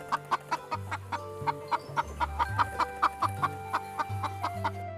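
A hen clucks in a quick run of sharp, evenly spaced calls over a soft background hum and low electronic tones, up close and clear.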